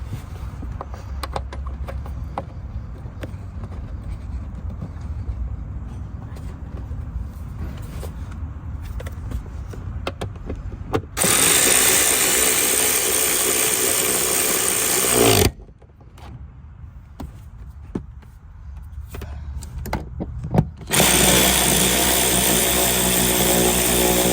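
A power tool tightens the bolts of a Honda Civic seat, running in two loud, sustained bursts after a quieter stretch of faint clicks and handling.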